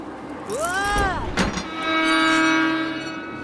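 A train pulls into a station in the video game Deponia Doomsday: a rising, bending horn-like tone gives way to a steady whistling hum and rumble, fairly close and loud.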